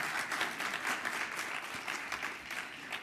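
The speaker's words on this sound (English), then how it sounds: "So give them a round of applause, and you too can be part of that." An audience at a James Baldwin closing event gives sustained, even applause that fills the whole stretch, a continuous wash of claps at moderate distance.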